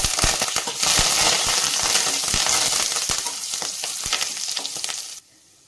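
Curry leaves and cashews fry in a hot pan with oil while rava upma is cooked, giving a loud, steady sizzle with crackling pops that runs for about five seconds, then cuts off sharply.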